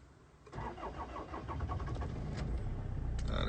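A hot 2008 Toyota RAV4 engine cranks briefly and catches, then settles into a steady, close idle that grows slightly louder toward the end.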